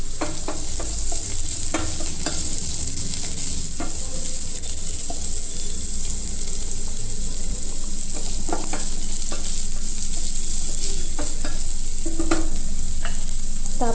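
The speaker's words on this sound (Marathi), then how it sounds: "त्यानंतर शिमला मिरची घालून घेऊ आणि थोडंसं परतून घेऊ।" Chilies and capsicum stir-frying in a pan for Chinese-style fried rice made from leftover rice, a steady close sizzle with scattered scraping stirs of the spatula and a faint high hiss running underneath.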